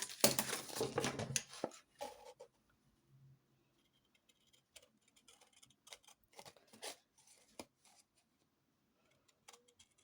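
Scissors snip through paper while trimming small inchie and twinchie squares for a paper craft, a dense rustle and handling noise at first, then sparse, quiet clicks and snips spread out over the rest.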